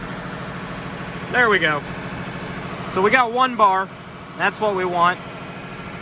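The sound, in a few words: vehicle engine idling without a load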